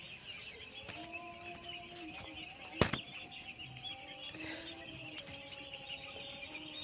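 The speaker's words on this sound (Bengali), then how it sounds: "দেখো পাখিগুলো দেখো।" Chickens inside a poultry farm house give soft, faint clucks and calls over a low steady hum, with one brief burst of wing-flapping partway through.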